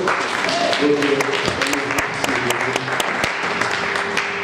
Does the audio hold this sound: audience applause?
yes